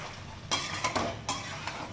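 Mutton is stirred and sautéed in a pot, with a low sizzle under a few distinct scraping strokes and light clinks of a spoon against metal, close and fairly quiet.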